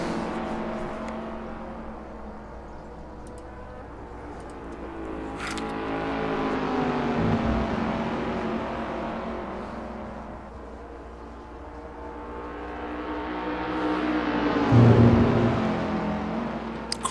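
Assetto Corsa race cars battle for the lead at Silverstone, engines rising and falling in pitch as they pass by, with a nearer, louder car sweeping past near the end.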